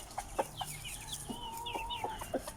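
Hens cluck in short, scattered soft calls inside a coop, faint and fairly close, with a few drawn-out notes among them and no voices.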